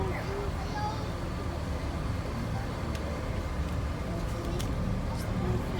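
Steady low rumble of distant highway traffic from the Bronx River Parkway, a continuous broadband wash with no distinct passes, heard from a moving zoo monorail.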